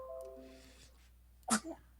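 A single sharp sneeze bursts out near the end, loud and close, after a stretch of quieter background sound with a faint tonal hum.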